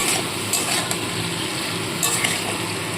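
A cauliflower stalk vegetable curry being stirred in a pan, with a steady low sizzle and a few brief utensil scrapes and clicks against the pan, close and moderately loud, with no talking.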